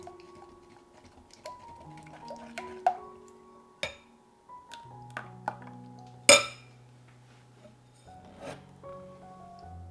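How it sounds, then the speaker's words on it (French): A whisk re-mixes crêpe batter in a bowl, making sparse, irregular clinks and ticks against the sides, with one sharper knock partway through and soft rubbing between, all close and fairly quiet. "Je mélange donc de nouveau pour obtenir un appareil homogène."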